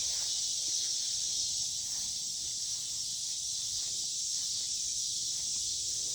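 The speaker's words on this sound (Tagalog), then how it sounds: "Ang ingay ng mga kuliglig." Crickets in farm fields at harvest time keep up a steady, high-pitched, unbroken chorus that stays loud and even throughout, with faint low rustling underneath.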